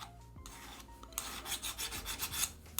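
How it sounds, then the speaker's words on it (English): Sharpening stone rasping along the ground bevel of a can opener, a quiet rubbing at first, then a steady run of close, repeated scraping strokes with no voices. "just wet your sharpening stone and then hold it securely in your hand and start sharpening."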